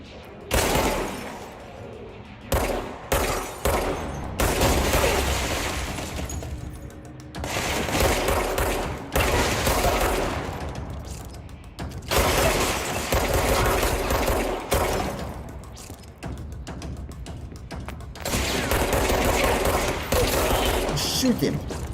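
Bursts of gunfire ring out in the action video game Control, with rapid automatic volleys and booming shots coming in repeated waves separated by brief lulls, loud and close.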